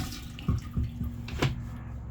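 A travel trailer toilet, a Forest River Surveyor 19BHLE, flushing with its water valve restricted: a weak spurt of water and a few gurgles and splashes up close, faint and brief, with no talking.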